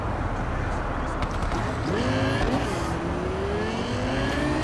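Cars driving through dense city traffic in Cyberpunk 2077, with engine whines sweeping up and down in pitch as vehicles pass and accelerate over a constant road rumble.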